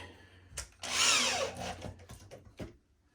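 A power drill drives screws into a wooden target stand: a short whirring burst that winds down as the screw seats, followed by a few brief clicks and knocks.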